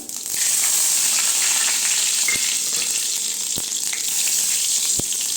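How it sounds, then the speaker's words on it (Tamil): Mustard seeds, urad dal, cumin and dried red chilies sizzling loudly in hot oil, a steady close crackle broken by a few sharp pops. "கடுகு உளுந்து பருப்பு சேர்த்துக்கலாங்க ஜீரகம் சேர்த்துக்கணும் காஞ்சி மிளகா"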